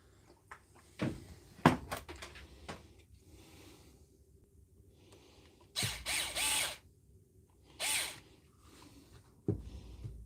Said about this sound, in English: I suppose I better tighten that up.